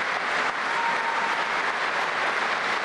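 A large hall audience gives a standing ovation for Putin's address on Crimea joining Russia, a thick, continuous wash of applause at steady loudness with no gaps, heard from a distance as a roaring mass.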